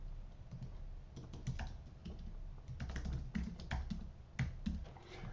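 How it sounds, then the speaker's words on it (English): A name typed on a computer keyboard, steady clusters of close key taps and clicks over a faint background hiss, moderately quiet, no talking. "So I'm just going to type in my name."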